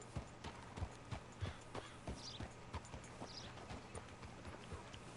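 Horse hooves in the video game Red Dead Redemption II clip-clop at a steady walking rhythm, crisp and close, over a low background hum, with no voices.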